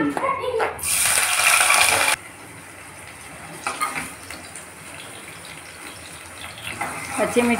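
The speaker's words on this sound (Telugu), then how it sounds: "ఆయిల్ వేడెక్కిందండి. ఇప్పుడు ఉల్లిపాయ వేస్తున్నాను, పచ్చిమిర్చి" Chopped onions and green chillies hit hot oil in a pan with a loud, close burst of sizzling that lasts about a second, then settle into a quieter, continuous crackle.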